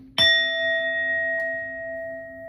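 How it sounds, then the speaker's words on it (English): A single sharp strike on a small bell used to cleanse tarot cards rings out with a clear, sustained tone that slowly fades, and a faint second touch comes about a second later. "We're going to hit this bell"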